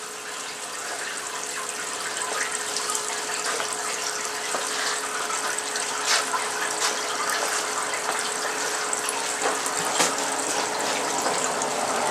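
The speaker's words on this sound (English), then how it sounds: "I take my same parts washer, I stick a teeny hose in it." Parts washer pumping cleaning fluid through a small hose while Mikuni carburetors from a Suzuki GS450 are cleaned out: a continuous gushing, splashing flow with a steady pump hum underneath, even and unbroken throughout.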